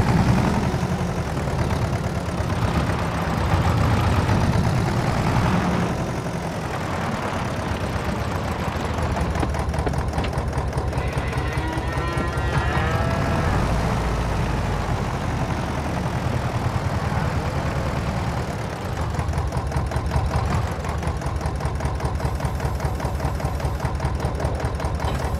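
A tractor engine idles in Farming Simulator 22 with a steady low, chugging drone, loud and close. It runs unbroken throughout, with no talking.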